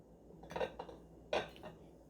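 Metal spoon scraping and clinking against dishes while scooping ice cream for vegan waffles, two distinct clattering scrapes about a second apart, close and fairly quiet.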